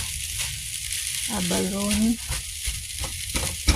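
Fried rice with Chinese cabbage, carrots, celery, salmon, abalone and egg sizzling steadily in a pan, a close, continuous frying hiss with a brief stir or scrape partway through.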